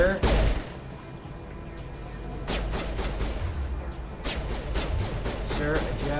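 Mass Effect gunfire pops off in scattered sharp shots, one sharp crack and then several quicker bursts further in, heard fairly faint against a steady game background.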